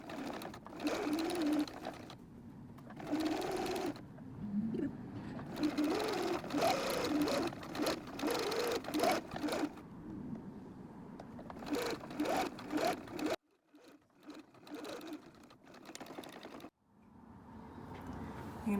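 A sewing machine stitches tape onto a madras fabric tote bag in several bursts of close, rapid mechanical whirring, separated by short pauses.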